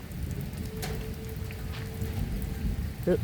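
Rain falls steadily in a rural Thai village setting, a continuous broadband patter and hiss that runs throughout at moderate level, with faint background sounds and no clear speech.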